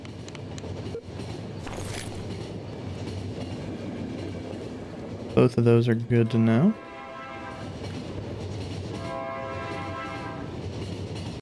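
A train rolls along in The Final Station, a steady rumble with a long loud horn blast partway through, while someone talks over it.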